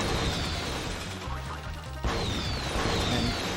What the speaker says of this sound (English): There is glass towers that I need to break because there are chicks in the bottommost blocks.